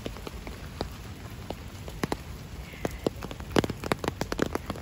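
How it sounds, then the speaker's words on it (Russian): Steady rain falls with scattered drops pattering on a nearby surface, a soft continuous hiss punctuated by sharper taps. "Ой, какой дождик пошел."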